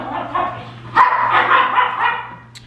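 Dogs bark and yip close by in quick repeated bursts, with a whimpering tone, over a low steady hum.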